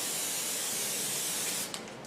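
Fluid Film aerosol is sprayed onto a Jeep WJ's front suspension in one continuous close hiss, which cuts off and is followed by a few brief sputters as the can runs low.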